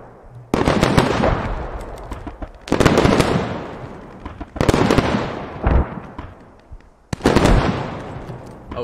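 Mortar shells exploding in the video game Squad, four heavy, booming blasts a couple of seconds apart, each followed by a rumbling, crackling decay, loud and close with no speech.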